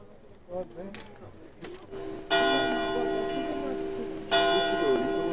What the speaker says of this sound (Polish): Dzwony biją.